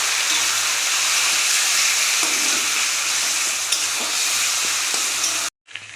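Mashed taro leaves sizzle steadily in hot oil with fried onion and garlic for a Bengali leaf mash, a loud continuous frying hiss that cuts off abruptly near the end.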